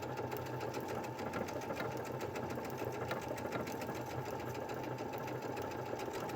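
A Baby Lock sewing machine fitted with a garment maker foot stitches fabric, producing a steady, fast, even whirring hum with a rapid needle rhythm, running continuously and close without any talk.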